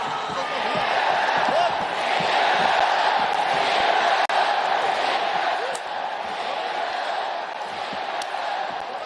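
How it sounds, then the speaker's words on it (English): A big arena crowd roars continuously inside Saitama Super Arena during a fight, a sustained loud wash of cheering with scattered shouts and thuds. "How about the noise of this crowd? I've never heard anything like it."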